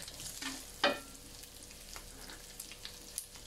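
Ingredients for beef carbonara sauté in a pan with a quiet, steady sizzle, and a brief stirring or scraping clink rises near the start.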